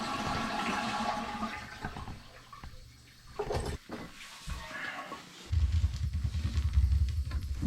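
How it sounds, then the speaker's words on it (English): A household toilet being flushed before removal for replacement: water rushes loudly at first, fades into trickling, then surges again into a strong, close swirling flush. "Give it a flush."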